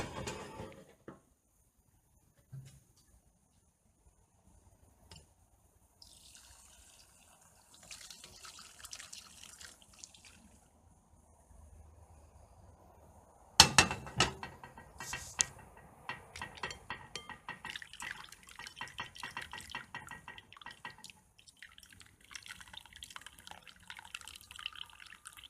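Water from cooked broadleaf dock greens being strained outdoors: quiet drips and trickles, then a louder splashing pour midway with wet clinks and dribbling runoff, fading to scattered drips.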